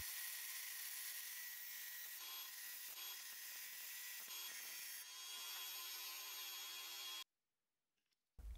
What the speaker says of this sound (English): I marked the centers of each leg and drilled a hole slightly narrower than the thread.